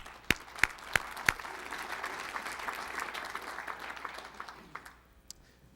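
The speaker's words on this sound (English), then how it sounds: "Give him a big round of applause, please." An audience applauds a volunteer coming on stage at a speech: a few sharp individual claps open, then a steady, full round of applause that tapers off into scattered last claps.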